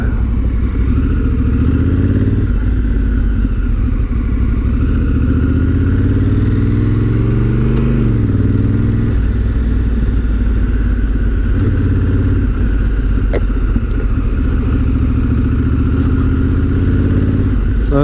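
Honda Africa Twin motorcycle ridden offroad, its engine droning steadily and close throughout with wind rush and clattering over rough ground, pitch rising and falling slightly as the throttle changes.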